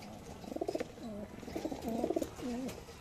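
Soft, low cooing of pigeons, several rolling coos repeating quietly close by.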